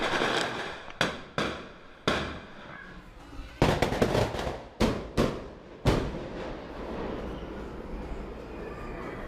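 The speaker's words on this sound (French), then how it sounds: "Le bruit, c'était à nouveau des tirs de mortier pour dire que nous sommes là." Mortar shots boom through a Rio favela: about eight sharp, loud blasts come at irregular intervals, each trailing off into a rumbling echo over steady background noise.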